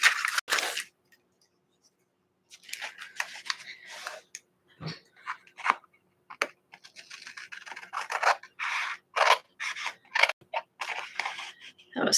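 Scissors snip scrapbook paper close up in a sequence of quick, irregular cuts and rustles, separated by brief quiet gaps.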